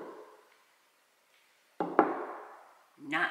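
Knocking on an LG refrigerator with Craft Ice: after a quiet stretch, two close hard raps ring briefly on the appliance, and a voice comes in near the end.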